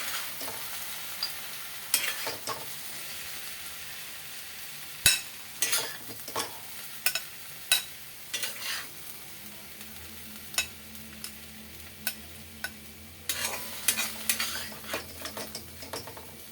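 A spoon scrapes and stirs through papaya and fish head curry with potato and peanuts in a frying pan, irregular clinks and scrapes over a low, steady sizzle, close by and with no talking.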